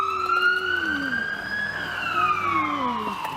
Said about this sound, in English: there's somebody getting a fast ride in an ambulance to the hospital too